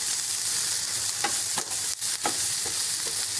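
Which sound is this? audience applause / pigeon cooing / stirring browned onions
stirring browned onions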